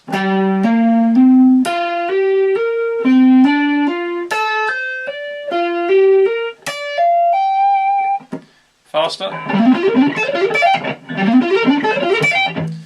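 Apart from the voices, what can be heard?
electric guitar hybrid picking lick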